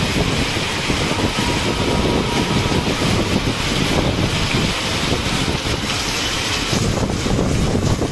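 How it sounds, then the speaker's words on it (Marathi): Dense, roaring wind noise buffets the microphone continuously, with a steady wash of heavy rain pouring down outdoors at Murudeshwar. "किती जोरात वारा पाऊस आहे"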